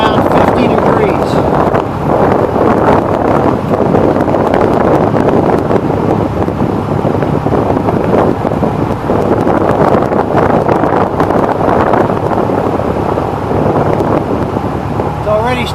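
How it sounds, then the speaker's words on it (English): Air conditioner vents blow inside a Piper Arrow aircraft cabin, making a loud, steady roar of rushing air that holds unchanged throughout with no gaps. "It's already starting to get cool in the cabin here. Very nice because we got 4 vents blowing."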